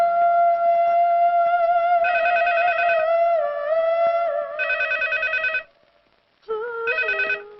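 A telephone rings in a Telugu film scene, sounding as repeated electronic ring bursts with a steady tone between them, a short silence, then one more ring.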